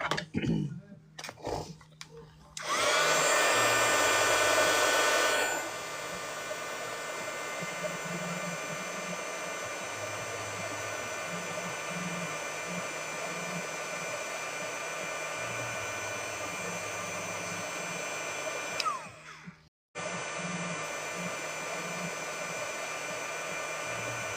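A handheld heat tool blows steadily over a handmade Christmas card, a loud close whirring hiss that starts with a harsher burst, holds a steady drone for many seconds, then cuts off abruptly.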